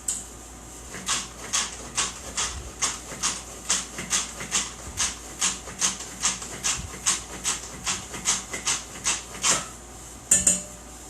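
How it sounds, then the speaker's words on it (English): Salsa being scraped down and chopped in a food chopper, a steady run of about two dozen evenly spaced, sharp plastic-and-blade clacks from repeated presses, close and fairly loud, with no voices. "I want to get some of this scraped down from the top here so that we get it all chopped up real well"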